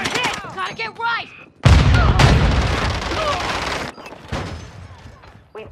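A grenade explodes in a first-person shooter video game, a loud deep burst cutting through rapid gunfire and shouted game voices, followed by continuing shots and rumble.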